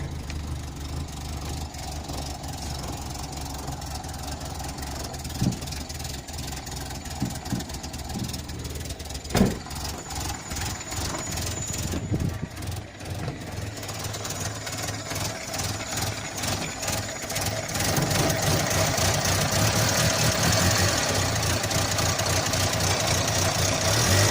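A 1986 Renault Super 5 GTL with its 1.1 engine idles on choke, a steady low mechanical rumble with irregular ticking, rising to a faster, louder fast idle in the last few seconds.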